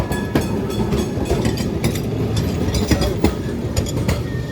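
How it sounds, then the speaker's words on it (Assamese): A tram rolls along a main street in Kolkata, its wheels clattering with rhythmic clicks over a loud, steady rumble close by. "ৰাস্তাত চলে এখন ট্ৰেইনৰ নিচিনা।"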